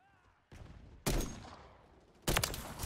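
Loud gunfire from a one-shot rifle in Call of Duty MW3 cracks out in two or three sharp blasts, each trailing into a noisy rumbling decay, with a fainter shot at the start.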